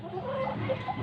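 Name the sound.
chicken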